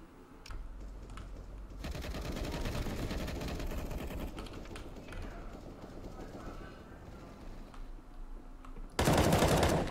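Gunfire in the video game CSGO, a brief burst of shots over continuous game noise, ending in a loud blast near the close.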